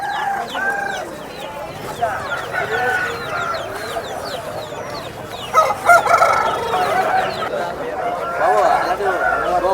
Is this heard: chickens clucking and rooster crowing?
yes